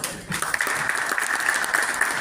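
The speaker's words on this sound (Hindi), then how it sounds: "जोरदार तालियां" Audience applause in a hall at a Green Army gathering in Raipur, steady and dense for a couple of seconds, with a faint voice in the background.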